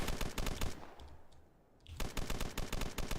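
Rapid automatic gunfire in a Roblox game, loud and close bursts of quick rattling shots that stop briefly in the middle and then resume at the same fast rhythm.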